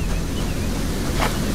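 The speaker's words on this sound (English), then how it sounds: "Oh, look at the waterfall! Even the waterfall looks nice." A waterfall in the video game Shelter gives a loud, steady, rushing roar of falling water that fills the whole stretch without a break.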